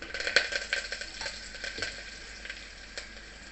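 Crushed pepper, dried red chilies and curry leaves sizzle in hot oil in a pot. The crackling and spitting are close and fairly soft, with light clinks of a stirring utensil and no talk.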